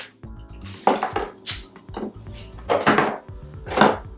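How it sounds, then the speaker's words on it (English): Metal camping silverware and long spoons clink and clatter as they are handled, a series of sharp, close rattling clinks in uneven bursts with no talking. "I've got some silverware, long spoons,"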